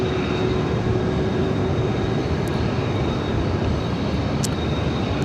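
An airliner on runway 16 right at Sydney Airport rumbles through its takeoff roll, a steady broadband engine roar heard from a distance. It holds without a break, joined by a couple of faint high ticks, with no voices.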